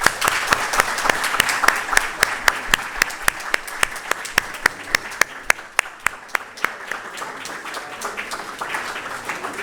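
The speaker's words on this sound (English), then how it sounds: "With a round of applause, please join me welcome Dr. Ibrahim Mohammed Mutala." Audience applause at an opening ceremony: a sustained, fairly loud round of clapping from a crowd, dense and steady throughout with distinct individual claps standing out, easing slightly toward the end.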